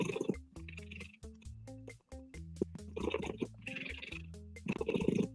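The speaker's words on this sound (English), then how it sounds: "She's purring to the rhythm of the pet." A cat purrs close by in soft, rhythmic pulses that stop and start again in short repeated bursts.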